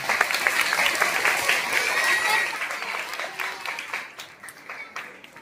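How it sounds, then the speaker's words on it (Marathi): Sustained applause from an audience at a school drama competition prize ceremony, steady and full at first, then thinning toward the end, with a faint voice underneath. "याबद्दल पहिल्या तुमच्या सर्व विद्यार्थ्यांसाठी आपण जोरदार टाळ्या वाजवा।"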